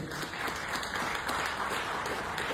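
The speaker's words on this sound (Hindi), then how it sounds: "मुझे पता है तालियां कम बज रही है" An audience applauding at a business-plan seminar, a dense steady wash of clapping from many hands, fairly close and even in level, with no clear speech over it.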